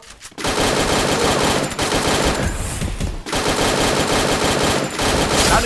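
An AR rifle fires in a video game in long, rapid automatic bursts, loud and close, with two brief pauses between the bursts.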